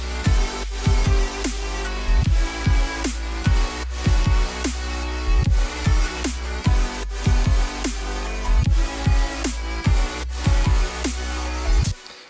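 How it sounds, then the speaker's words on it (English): Square-wave bass leads layered with short plucks in an FL Studio future bass track, with heavy sub bass and a punchy kick-snare beat in a steady pumping rhythm, loud and alone. "these are just square bass leads."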